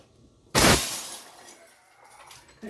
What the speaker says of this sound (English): You go throw a glass window and you expect shattering.